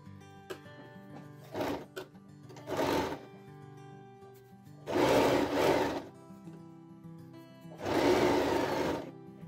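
A sewing machine stitches box pleats into frock or skirt fabric in short, loud whirring runs. The runs start and stop with quiet pauses between them, and no voice is heard.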